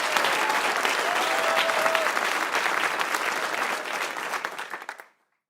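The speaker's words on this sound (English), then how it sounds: "Y'all give up a round of applause for Justice for Dolph." An audience applauding, dense steady clapping that holds loud for several seconds, then thins out and stops abruptly near the end.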